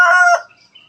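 A native Tagalog chicken on a small family farm crows once, loud and close, a short harmonic call that cuts off sharply and leaves faint tail sounds.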